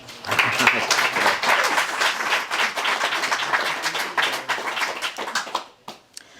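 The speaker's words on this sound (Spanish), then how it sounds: "Un aplauso para él" An audience at a book presentation bursts into sustained applause for a man named Gerardo, dense overlapping claps that fill the room and fade out near the end.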